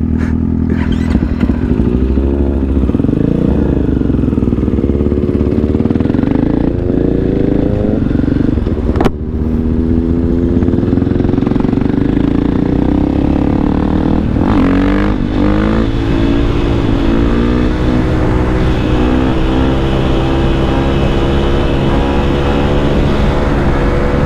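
A motorcycle engine revs hard up close, climbing and dropping through the gears in one loud, unbroken run with clattering mechanical noise.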